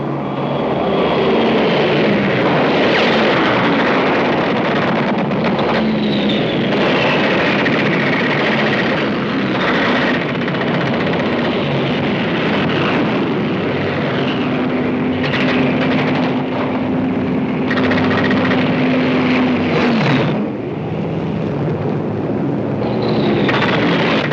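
WWII fighter planes attack transport planes in flight over North Africa: a loud, continuous propeller-engine drone fills the whole stretch with no talking.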